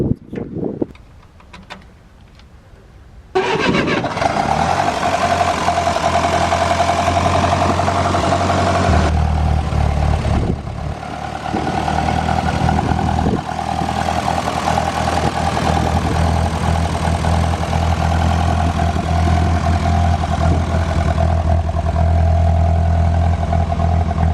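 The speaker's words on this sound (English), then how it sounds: "I'll go and move the Ferguson tractor" A classic Ferguson TEA20 tractor engine starts and settles into a steady, loud idle, its low rumble running continuously close by with no talk over it.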